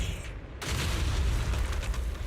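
A loud in-game explosion in Zenless Zone Zero blasts rubble off a bridge, a deep booming roar that swells after a brief lull and rumbles on steadily to the end.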